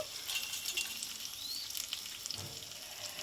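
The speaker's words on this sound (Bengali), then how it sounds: "এদিকে কষতে থাকবো পটলটা" Pointed gourd (potol) sautés in a pan with a soft, fairly faint steady sizzle, overlaid by light crackles and one dull knock of a spoon; no one speaks.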